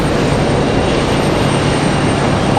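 A Delta Connection jet operated by Republic Airways on final approach to Raleigh-Durham, a loud, steady engine roar with no break and no voices.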